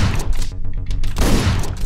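Rapid bursts of gunfire in the video game Hotline Miami 2, loud and close, with several sharp shots clustered over about two seconds.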